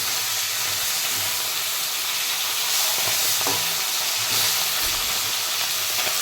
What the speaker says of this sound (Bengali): কাতলা মাছের মাথা ভাজতে বসিয়েছি